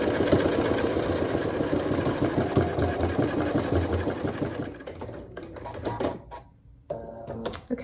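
Sewing machine top stitching a fabric face mask, a close, continuous rhythmic mechanical chatter for about five seconds that slows and stops, followed by handling sounds.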